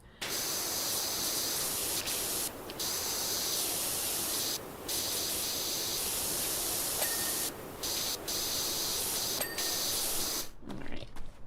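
A pressure washer sprays continuously in the video game Power Wash Simulator, a loud, broad, steady hiss that cuts out briefly a few times before resuming and stops near the end.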